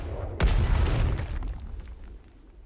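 A cannonball fired from a cannon in the Atlas video game lets out one loud, sudden boom that rolls on with a rumbling tail and fades over about two seconds, with no voices.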